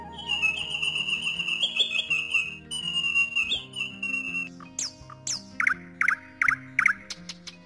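A nightingale sings a melodic song of sustained whistled phrases, then quick repeated chirps, over soft background music.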